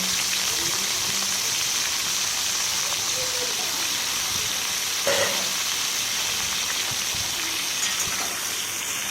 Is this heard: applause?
no